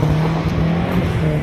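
A Nissan 1400 pickup drives and drifts on a test run after a stub-axle and hub replacement, giving a steady, loud, close engine roar with a constant drone throughout.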